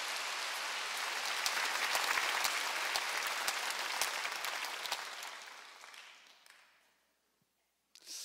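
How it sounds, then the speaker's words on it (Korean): A church congregation at a Wednesday worship service breaks into loud, dense applause that fills the room, swells, then fades away to silence, followed by a brief faint sound near the end. "박수 좀 세게 쳐봐야 깨달은 사람만."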